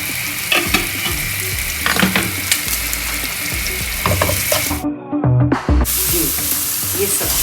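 Whole dried chilies frying in hot oil, a loud dense sizzle with crackles and stirring scrapes, briefly cutting out mid-way before the steady frying resumes, near and without speech.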